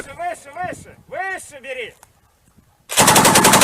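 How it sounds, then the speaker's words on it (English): A heavy machine gun fires a sustained, loud, rapid burst at close range, following a few seconds of shouted voices and a brief quiet pause. "Run. Heavy machine gun."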